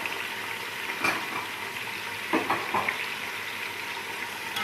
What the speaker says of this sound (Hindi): और इसको अच्छी तरह से फ्राई करते हैं।